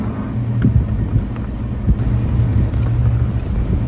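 A truck rolls across an old, bumpy wooden pier near Avila Beach, giving a loud low rumble with scattered thumps and knocks from the boards, fairly close and continuous.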